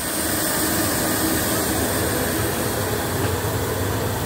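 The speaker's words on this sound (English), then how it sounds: "Here's the blower." Blower on a steam engine boiler: a steady, loud rushing roar of forced air, continuous and unchanging throughout, close by with no voices.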